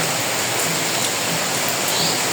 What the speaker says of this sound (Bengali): এখন যে আর কি বৃষ্টি ঘুরে ঘুরে বৃষ্টি হচ্ছে